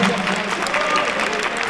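Brief burst of audience applause at a concert in Potosí, a dense steady patter of many hands close by, with some voices mixed in.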